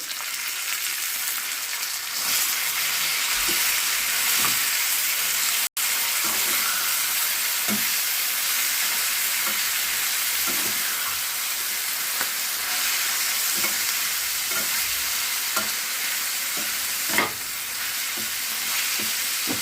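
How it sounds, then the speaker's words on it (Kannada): Tomato and greens frying in hot oil for a Karnataka-style ragi mudde bassaru, a steady close sizzle with scattered stirring scrapes and clinks throughout, no talking. "ಅದನ್ನು ಸಹ ಸ್ವಲ್ಪ ಫ್ರೈ ಮಾಡ್ಕೊಳ್ಳೋಣ ಎಣ್ಣೆಯಲ್ಲಿ."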